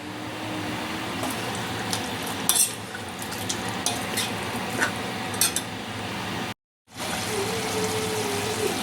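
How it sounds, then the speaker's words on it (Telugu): A pan of chicken curry hisses and sizzles continuously as water is poured in, with light metallic clinks and stirring; the sound briefly cuts out near the end. "కొద్దిగా అయితే వాటర్ పోసుకుంటున్నా"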